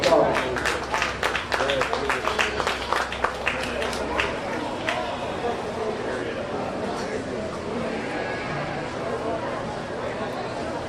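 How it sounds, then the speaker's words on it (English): A crowd claps steadily for several seconds at a county fair sheep and goat show, the applause fading into murmuring chatter and background voices. "Let's give these young people a big round of applause."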